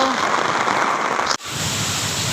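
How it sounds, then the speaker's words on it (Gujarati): Heavy monsoon rain pours down in a dense, loud hiss that cuts off abruptly partway and resumes as a steady, softer roar. "હજી વરસાદ બંધ થવાનું નામ જ નથી લેતો"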